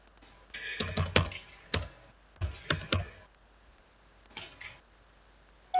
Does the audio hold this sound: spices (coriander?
no